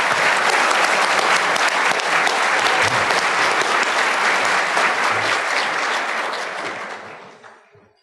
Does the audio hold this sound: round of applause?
yes